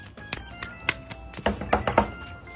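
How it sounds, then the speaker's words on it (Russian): Knocking on a door, a series of sharp taps and thunks in irregular bursts, close and moderately loud, with several quick clustered knocks toward the end. "Да кто тут стучит?"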